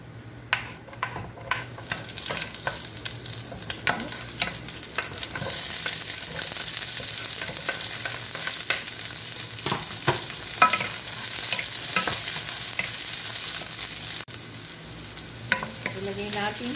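Pork spare ribs sear in hot oil with a loud, dense hiss of sizzling fat, close up and continuous, with occasional pops and light scrapes of a utensil in the pan.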